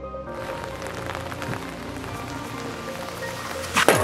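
Rain falling steadily during an outdoor wiffle ball game, a dense continuous patter on surfaces heard up close, with a brief louder rustle near the end and no speech.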